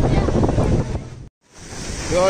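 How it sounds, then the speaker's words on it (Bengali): Waves at Cox's Bazar beach surge and wash in steadily under heavy wind buffeting, cut by a brief dropout before the roar of surf rises again. "দেখেন কি সুন্দর ঢেউয়ের কি বেগ দেখতে পাচ্ছেন"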